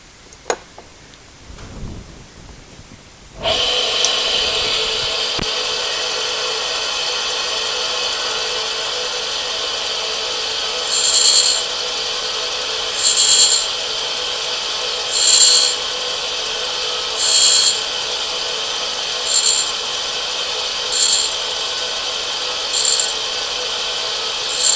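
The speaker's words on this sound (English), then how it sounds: "I can cut the tap off, and I'll use the spin dexter for that, and then I'll disc grind the end" A tap is cut off with a spin dexter, then its end is disc ground. After a quiet start, a loud, steady high whine runs close by and surges in regular pulses every couple of seconds.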